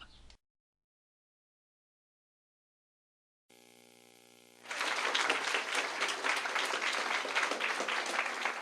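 After a brief gap and a low hum, applause from a storytelling festival audience swells suddenly and holds as dense, sustained clapping from a roomful of people.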